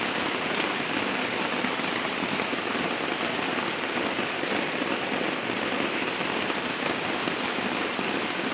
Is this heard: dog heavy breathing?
no